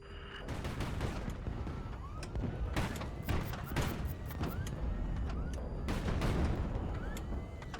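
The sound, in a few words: ammo explosion inside ship in Highfleet video game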